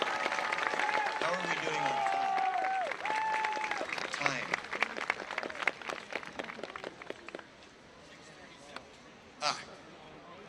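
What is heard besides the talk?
audience applause at tree lighting ceremony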